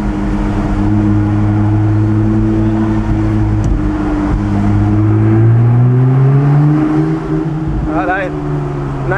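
A Gemballa Avalanche 650 Roadster GTR EVO-R engine drones loudly and rises in pitch as it revs through a tunnel in Monaco, its close, booming tone reverberating continuously beneath occasional voices.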